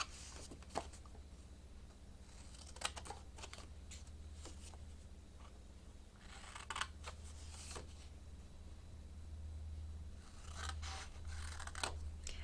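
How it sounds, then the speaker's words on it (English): Scissors snipping cardstock rectangles for handmade coin envelopes: irregular sharp crisp cuts scattered across the stretch, some in quick clusters, close and fairly quiet over a low steady hum, with no speech. "it's time to cut out the rectangles"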